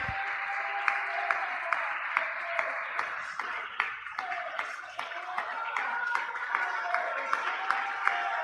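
Congregation in a church clapping together in praise, a steady sustained wash of many hands with sharp individual claps standing out over a continuous bright tone, moderately loud and unbroken throughout.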